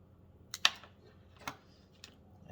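Wire cutters snip the ends off a plug cable while a headlamp is being rebuilt: three crisp, quiet clicks spaced about a second apart, with near silence between them.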